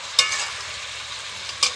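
Fish and spices sizzle in a pan under a utensil, a steady close frying hiss with two brief scraping strokes of stirring.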